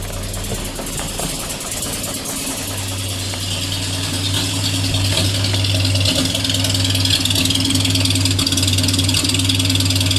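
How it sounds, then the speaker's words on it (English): A 1933 Buick Series 90 limousine engine idles steadily in neutral with a low, even hum and a light mechanical rattle, growing slightly louder partway through. "I'm in neutral. Let me get a little exhaust."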